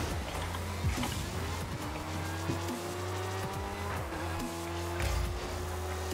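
A car races through a Rocket League match in the Frosty Fest 2022 event, with continuous engine whine, rising revs and tire squeals plus occasional impact thuds over game music.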